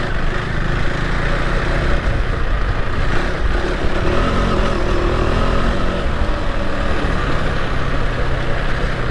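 A KTM 390 Adventure R motorcycle, still being run in, is ridden across sandy ground, its engine a loud, constant droning rumble mixed with wind buffeting throughout, and nobody speaks.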